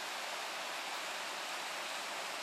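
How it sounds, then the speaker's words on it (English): A brook tumbles down a steep-sided ravine in western Massachusetts, making a constant, even rush of flowing water at moderate level with no other sounds. "The brook flows down through an extremely steep-sided ravine."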